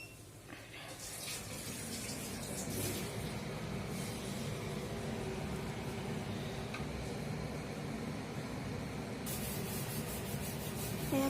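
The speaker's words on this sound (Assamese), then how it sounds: "চিমটো অন কৰি লওঁ" A kitchen chimney exhaust hood runs with a steady, dense whooshing roar of rushing air that stays even throughout, with a few faint clatters underneath and no talking.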